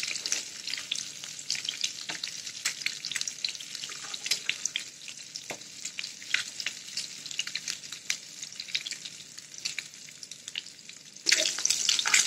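Capsicum omelette frying in a pan, a steady close sizzle and crackle that swells louder near the end, with no talk.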